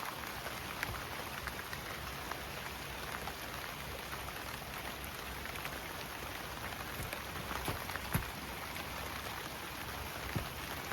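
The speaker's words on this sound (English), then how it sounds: "let's go have a quick look at Butch in this rain" Steady rain falls outdoors on a garden, a soft continuous patter with occasional louder drops, fairly quiet and without voices.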